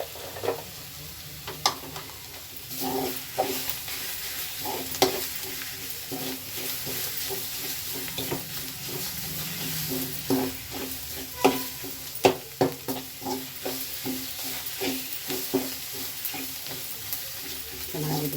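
Palak spinach gravy fries in a pan with a constant close sizzle and hiss, broken by irregular scraping taps as it is stirred.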